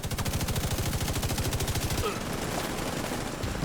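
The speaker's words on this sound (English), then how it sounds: "And here I'll blind fire at these." Rapid automatic gunfire rattles in a fast, continuous burst during blind fire in a shooter video game, loud and close, then gives way to a noisy hiss of fainter action and debris.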